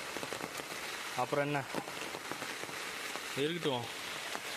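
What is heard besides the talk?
rain falling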